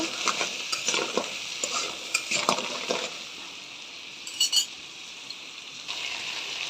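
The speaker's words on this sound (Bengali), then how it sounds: "ভালো করে ভাজি ভাজি করে নেব" Pieces of large crab stir-fry in oil with turmeric, a constant soft sizzle broken by scraping stirs and a few metallic clinks of a spoon against the pan.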